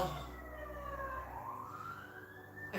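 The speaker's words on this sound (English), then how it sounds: "I feel like that siren is for somebody else." Emergency vehicle siren wailing steadily, its pitch sweeping up and down over a constant rumble of passing traffic, moderately distant and continuous.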